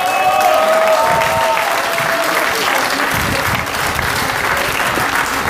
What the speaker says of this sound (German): großartigen Applaus für den Florian Aschani